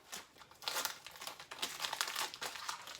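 A printed paper shipping label is crumpled and crinkled by hand at close range, a busy run of crackling rustles with no talking.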